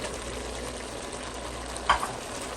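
Red onions for butter chicken frying in a pan, a steady close sizzle with one brief clatter of stirring partway through.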